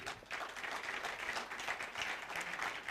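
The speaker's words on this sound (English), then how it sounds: "let's get to hear your hands clapping" Sustained applause from a seated audience at a tech festival morning session, a dense, steady wash of many hands clapping for about three seconds with a faint murmur beneath.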